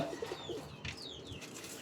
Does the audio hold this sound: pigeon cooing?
yes